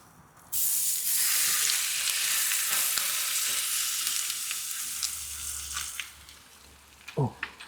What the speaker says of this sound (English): And we're just gonna add the chicken.